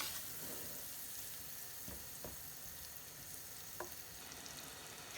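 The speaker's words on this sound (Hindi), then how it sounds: "इसको थोड़ा हमने मेल्ट करना है, मीडियम आंच पे मैं कर देती हूँ ताकि जले नहीं हमारा कुछ भी।" Butter melting in a pan over medium heat gives off a steady, soft, close sizzle, broken by a few faint clicks of stirring.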